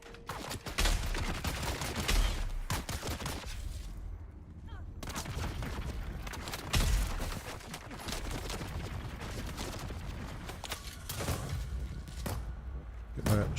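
Heavy gunner firing in the video game Dune: Awakening, a dense, sustained barrage of loud gunfire and booming impacts with brief pauses, dominating throughout.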